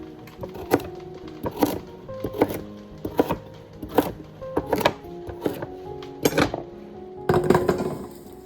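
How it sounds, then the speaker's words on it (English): Carrots being chopped with a knife on a cutting board for chicken broth, roughly a dozen sharp, irregularly spaced thuds, close and distinct, some in quick pairs. "start the broth by chopping up some carrots"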